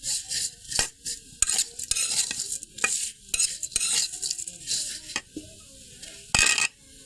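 A spatula stirs lachha semai (fried vermicelli) in a pan, with repeated close scraping strokes and clinks over a soft sizzle of frying, in irregular bursts and pauses.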